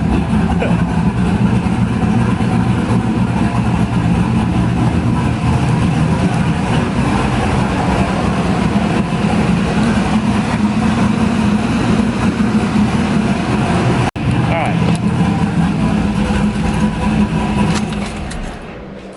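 A 2000 Pontiac Trans Am WS6 running with a steady, loud, low engine drone throughout, with no talking.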